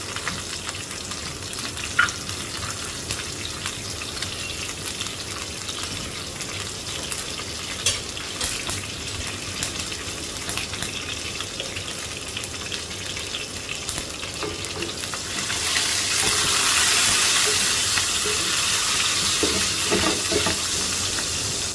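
Cubed onions with salt frying in a pan, a steady close sizzle that runs unbroken and swells louder in the last few seconds, with occasional stirring scrapes and no talking.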